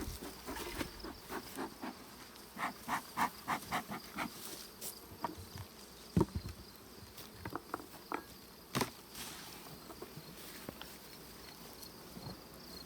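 Honeybees buzz around summertime split hives, with close individual bees droning past in repeated short swells over a faint steady hum of the colony, no talk present.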